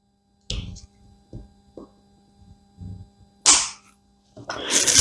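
A suction cup is pulled off a fish finder screen, giving a few soft thumps and handling noises and then two sharp, close popping bursts near the end.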